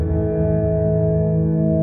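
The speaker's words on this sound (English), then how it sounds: "It's a very, very big reverb." A sustained guitar note through a NUX Trident rings out and hangs in a wash of very big reverb and delay, steady and loud, with no voices.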